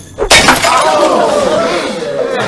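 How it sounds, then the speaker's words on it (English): A glass soda bottle shatters when struck by a thrown yo-yo, a sudden loud crash followed by a long ringing, tinkling spray of falling glass. "Then he flings it and shatters a soda bottle."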